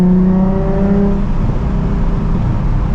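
A 2007 Nissan 350Z HR engine revs loud and close, a steady droning whine with rising harmonic tones early on, settling into a sustained throaty hum through the rest.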